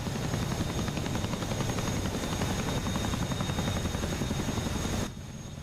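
A Chinook helicopter in DCS World gives a steady, loud, close rotor thump and engine drone that holds without a break and then drops sharply in level near the end.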